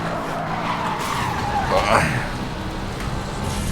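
A car skids sideways in the racing game Need for Speed: Hot Pursuit (2010), a rising tire screech over steady engine roar, with someone commentating over it.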